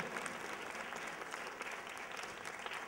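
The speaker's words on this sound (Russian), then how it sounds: "Максим Герасименко, ваши аплодисменты." Steady applause from a concert audience at a vocal performance, dense continuous clapping for a singer, filling the space without pause or voices.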